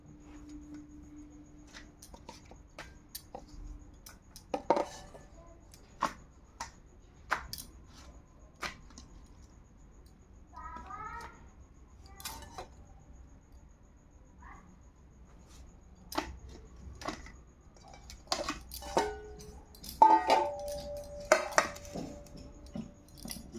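Plates and utensils clink sparsely and faintly while chana dal with potato and a fried egg are served, with scattered light taps and scrapes against a quiet background.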